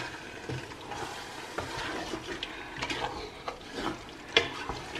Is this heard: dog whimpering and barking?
no